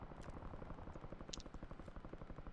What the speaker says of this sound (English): A lot of gunfire over here.